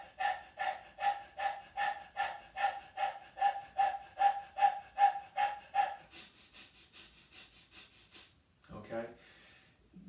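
A person demonstrates a yogic breathing exercise, panting like a dog with the tongue out: a long run of loud, close, evenly spaced panting breaths at a quick steady rhythm, then a softer, fainter stretch of breathing.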